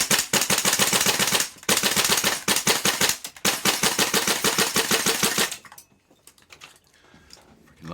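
Tokyo Marui MWS airsoft gas blowback rifle emptying a magazine, a loud rapid series of sharp close pops with brief pauses, ending in quieter clicks and rustle.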